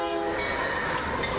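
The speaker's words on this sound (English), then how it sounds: "spending his morning on board a freight train" A Union Pacific freight train horn sounds loud and close, one sustained blast holding steady for the whole moment with no voices over it.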